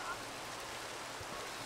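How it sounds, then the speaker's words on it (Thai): Rain falls in the Minecraft video game as a steady, soft wash of hiss, fairly faint, with no other sounds standing out. "ฝนตกด้วย ฝนตกด้วย"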